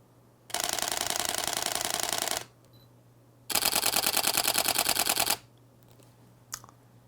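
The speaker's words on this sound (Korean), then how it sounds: "매뉴얼에다가 셔터 스피드 보여드릴게요." A Canon EOS 90D DSLR fires its shutter in high-speed continuous bursts in manual mode: two rapid, loud rattling runs of clicks, each about two seconds long, with a short pause between them, then a single faint click.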